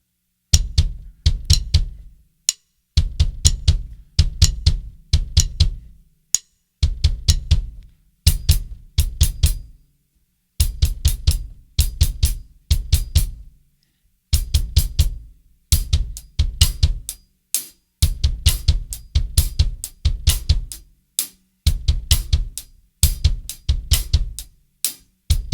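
A drum kit foot exercise played as a repeating two-bar pattern, with bursts of fast, tight low and bright hits separated by short gaps, steady and close with no voices.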